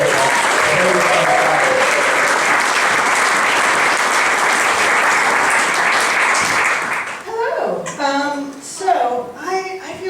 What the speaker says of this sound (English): can we please give a huge round of applause and cheer for Lynne Murphy